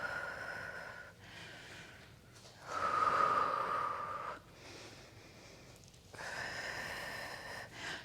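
Slow exhale during a stabilization exercise, soft breathy snort-like rushes of air at close range repeating at a steady pace, quiet with no talk over it.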